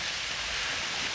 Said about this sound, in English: now it started to rain suddenly